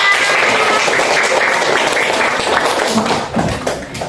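Classroom of students applauding together, a dense continuous wash of many hands clapping close by, steady and loud throughout with faint voices mixed in.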